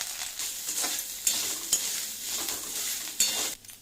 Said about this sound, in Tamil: அதை போட்டு நல்லா ஃப்ரை பண்ணிடணும்.